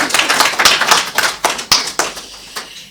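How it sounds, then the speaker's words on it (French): A small audience at a book presentation in Paris claps in uneven, close bursts of sharp individual hand claps that thin out and slow toward the end. "Moi, j'aimerais quand même qu'on l'applaudisse."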